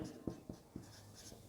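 Chalk or marker strokes on a classroom board during a geography lesson, a few distinct taps and scrapes spaced about a quarter second apart, close and fairly quiet with no talking.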